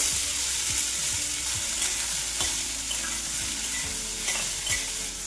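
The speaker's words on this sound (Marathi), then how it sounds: "मूग थोडेसे तुपावरती फुल गॅसवरती फ्राय करून घ्यायचे" Mung bean sprouts fry in ghee over a full flame with a loud, continuous sizzle and repeated short scrapes of a spoon stirring through the pan.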